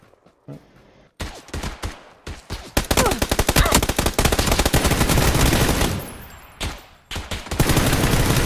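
Loud close gunfire in the video game PUBG on PS4, opening with scattered single shots that build into dense sustained automatic fire, broken by a couple of brief gaps before more bursts.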